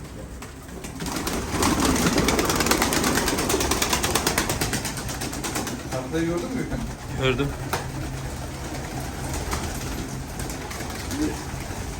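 Pigeons coo softly in a loft in Istanbul while two people talk nearby, with rustling and a brief mechanical rattle.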